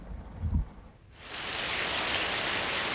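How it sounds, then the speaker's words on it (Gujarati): Heavy monsoon rain pours down across Gir forest, a dense, steady roar of rainfall that swells in after a brief low rumble and fills the rest of the clip. "ગીર જંગલમાં ધોધમાર વરસાદ છે તે વરસી રહ્યો છે"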